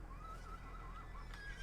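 A horse neighs in a video game, the smuggler's horse, with a wavering whinny lasting most of the moment over a steady low game background hum, fairly quiet.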